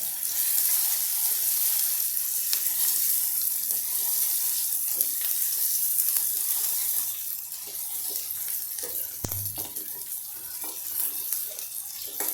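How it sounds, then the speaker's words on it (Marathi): Green chili paste sautés in a hot pan, giving off a steady, close sizzle and hiss, with a brief clunk of a utensil partway through. "आता हे हिरवं वाटण पण आपण छान सातळून घेऊया."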